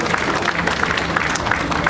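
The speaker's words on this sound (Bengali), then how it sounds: "উষ্ণ করতালির মধ্য দিয়ে আমরা সকলে মিলে বরণ করে নিই স্যারকে।" An audience at a college annual educational and cultural programme claps steadily throughout, a dense, even applause welcoming a guest onto the stage, with a faint murmur of voices underneath.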